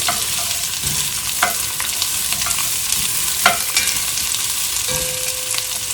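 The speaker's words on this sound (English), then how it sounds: "I'm going to start with the onions. And I'm just going to move those around." Onions fry with a steady, close sizzle in a pot for chili while a spoon stirs them, scraping clicks and knocks popping up now and then over the constant crackle.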